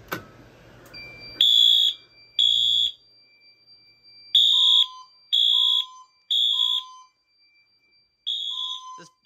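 Fire alarm system test with white devices: a steady high electronic tone sounds alongside loud, repeated pulsed horn blasts in uneven bursts with brief gaps between them, close and piercing, and no one talks.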